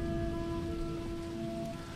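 Heavy rain pours steadily in a lowland village in late June, a dense, continuous patter close by with no voices.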